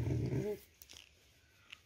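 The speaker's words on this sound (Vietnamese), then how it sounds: "gừ dữ dằn quá vậy" A dog in a kennel pen growls deeply and close for about half a second, then the sound drops away to near silence with a few faint clicks.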